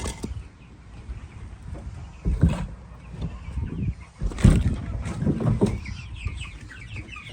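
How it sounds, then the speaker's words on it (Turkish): Young chicks peep in short bursts at close range, clucking and chirping irregularly against a quiet village farmyard background. "Civcivlere bakalım mı? Çık çık ediyorlar."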